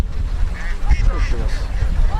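Ducks on a Bangladeshi duck farm of about 1,900 birds quack and honk in short, overlapping calls close by over a low rumbling background, with a voice briefly audible among them.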